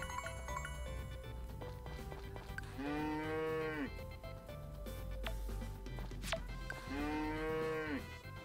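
Cows moo twice in the farming video game Story of Seasons: Friends of Mineral Town, each low drawn-out call lasting about a second, heard over steady background game music.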